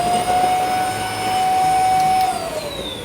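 Eysin V30 vacuum cleaner with mop running while plugged in, a loud close whine with a steady high tone that shifts slightly in pitch, over a constant rushing motor drone.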